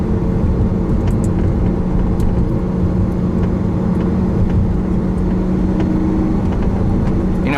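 Lamborghini Aventador from 2012, its engine giving a steady, loud low rumble that holds even throughout, idling or cruising close by with no talk over it.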